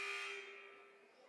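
A buzzer sounds at a high school varsity boys basketball game to end a timeout, a single steady electronic tone that starts loud and slowly fades out.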